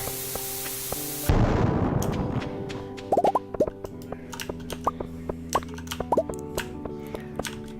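Bombs going off in the mines of Stardew Valley, a loud burst of explosion followed by a scatter of small popping and plopping game effects, with no talk.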